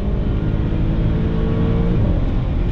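An Audi B8 S4 pulling hard at full throttle in third gear, a loud, steady engine roar with a deep drone and rising tone, heard close and continuous without talk.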